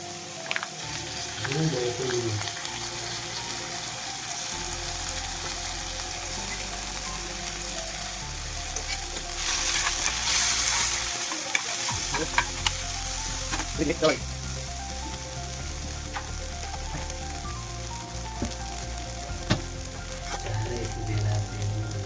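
Ginger garlic paste sizzles in a pan over low heat while making Gujarati yogurt kadhi, a continuous frying hiss with occasional stirring clatter, and a person speaks over it at times.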